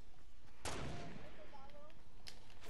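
A single loud gunshot crack in a sniper shooting game, followed by fainter distant shots, with speech mixed in.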